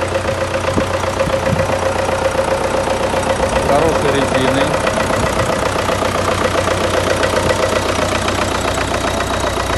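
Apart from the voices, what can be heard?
MTZ-82 tractor engine idling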